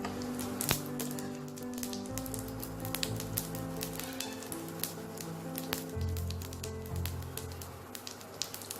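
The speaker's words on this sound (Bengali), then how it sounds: "জিরেটা গরম হয়ে গেছে, এবার আমি এতে গুঁড়ো মশলাগুলো দিয়ে দিলাম।" Ground chilli, turmeric, cumin and coriander powders hit hot oil with fried cumin seeds while palak paneer is being made, giving a steady close sizzle with scattered sharp crackles and pops and no talking.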